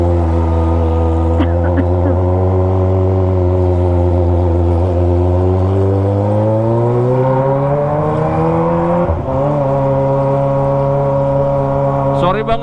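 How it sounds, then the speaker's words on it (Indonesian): A Kawasaki ZX25R motorcycle fitted with a loud Toce exhaust is ridden, its engine a constant high, buzzing drone that rises and falls gently with the throttle, very close and loud throughout, with some wind noise. "Karena emang berisik banget knalpotnya ya."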